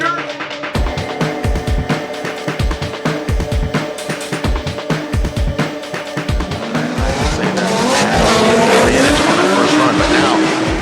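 A Formula Drift car drops its wheels off the track into the dirt, its engine roaring through rapid revving pulses and tire squeal, then a sustained louder skid and rumble, with a commentator talking over it.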